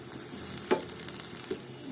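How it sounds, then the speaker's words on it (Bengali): Onions frying in oil in a pan for an achari dried-fish (shutki) dish, a steady soft sizzle with two brief louder stirring scrapes, close and without talk. "ভাজা ভাজা করে নেব, হালকা ব্রাউন কালার করে নেব।"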